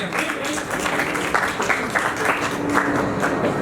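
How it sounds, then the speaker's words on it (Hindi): Audience at a live poetry and comedy show applauds at steady moderate volume, dense clapping with some louder bursts, without speech. "एक बार ताली अपने लिए बजाइए"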